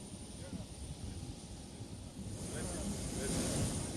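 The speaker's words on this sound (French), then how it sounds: "Il quitte l'avion, il descend vers son frère le général d'armée Assimi Goïta." A presidential airplane at an airport rumbles steadily during a president's arrival and disembarkation, a broad continuous engine roar with a faint high whine, while voices talk over it.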